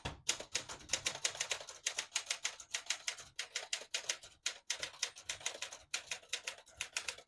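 Rapid clacking of a 1960 Olympia Splendid 33 portable manual typewriter typing a sentence, keys struck in a steady rhythm with brief pauses between bursts, close and fairly quiet.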